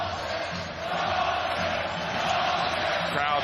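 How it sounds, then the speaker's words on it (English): A basketball arena crowd at an Asia Cup quarterfinal between New Zealand and Lebanon, a loud, dense roar of many voices chanting a player's name, sustained and close-filling throughout. "Crowd chanting Lawson, Lawson."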